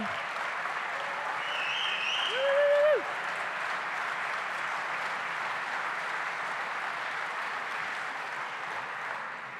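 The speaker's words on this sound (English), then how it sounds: "Get a little round of applause for our football players tonight." An audience applauds football players at an evening event, with a sustained burst of clapping from a large crowd filling the room. A brief whistle rises over it, and the sound stays steady throughout.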